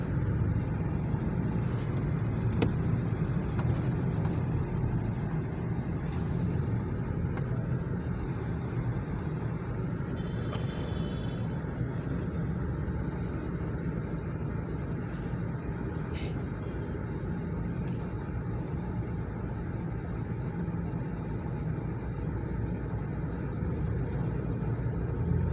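A Ford Ranger pickup truck on a road test, heard from inside as a steady low engine and road rumble that holds for the whole stretch, with faint occasional clicks and no clear talk.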